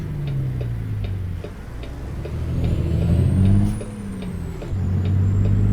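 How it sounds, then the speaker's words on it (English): A heavy truck in a driving simulator game releases hissing air brakes under a steady low engine drone, with a ticking indicator clicking at an even pace throughout and a faint rising whine overhead. "Oh, brakes, brakes, brakes, brakes."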